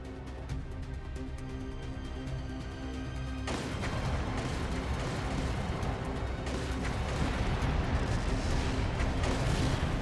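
Dense, continuous bursts of gunfire and explosions in the game Trails Through Daybreak II erupt after a quieter opening, loud and sustained, with no talking.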